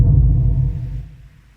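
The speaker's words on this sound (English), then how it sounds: "next there is a bass drum, just the simple FL Studio bass drum" A single simple FL Studio bass drum hit processed with reverb and a low-pass filter, a deep, muffled low thump with a dark reverb tail that fades away over about a second and a half.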